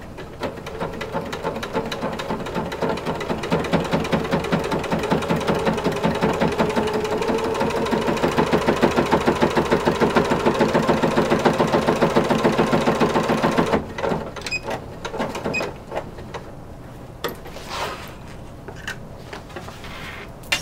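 A sewing machine stitches wide corset bone casing tape in a fast, steady mechanical whir that runs for most of the time, then stops, leaving softer handling noises.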